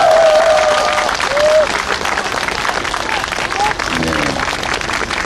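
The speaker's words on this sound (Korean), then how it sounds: "이 대목에 다시 크게 박수 한번" A crowd at a Korean political speech event breaks into loud, sustained applause, a thick wash of many hands clapping at once, with the speaker's voice faintly audible above it at moments.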